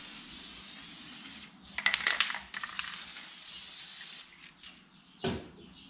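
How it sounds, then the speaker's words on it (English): Aerosol can spraying contact adhesive in several bursts: long steady hisses broken by short pauses and a few quick clicks, close and fairly quiet. "fold it over so half of the back is exposed and spray on some contact adhesive"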